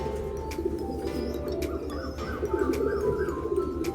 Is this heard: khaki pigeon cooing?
yes